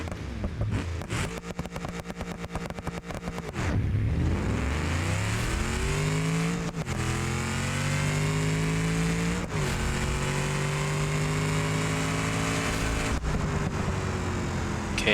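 A stick shift car fitted with nitrous in the video game BeamNG does a second gear launch, its engine roaring loud and close and revving up through rising pitch sweeps, with brief dips at each shift, running continuously without speech.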